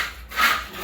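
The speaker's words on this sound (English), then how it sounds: "they're using this to scrape the concrete with" A hand tool scrapes across concrete during skim coating on a beach house build in the Philippines, one short close rasping stroke that swells and fades.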